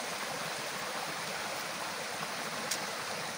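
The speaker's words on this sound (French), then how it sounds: "Là, ça arrive au ruisseau" Small forest stream flowing along an unmarked path near old ruins, a steady broadband rush of water heard close and alone for the whole stretch, with one brief faint click near the end.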